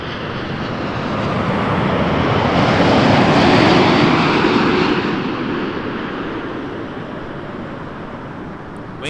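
A Boeing 787 Dreamliner jet airliner arriving from LAX at Toronto Pearson Airport, a broad roaring engine rush that swells to a peak midway and slowly fades, heard alone.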